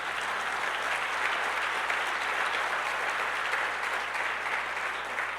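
A church congregation applauds loudly and steadily, dense clapping filling the whole stretch without letting up.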